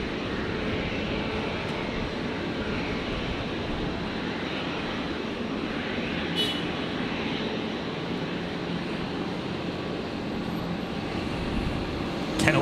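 A Virgin Boeing 737-700 touching down on runway 01 left at Brisbane, a fairly faint, steady jet rumble from a distance with a brief rise near the end.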